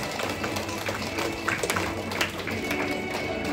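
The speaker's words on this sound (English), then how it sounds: "Let's give him a round of applause" A crowd at an awards banquet claps for a graduating student, a dense and steady patter of applause with a few louder claps, filling the room at moderate volume.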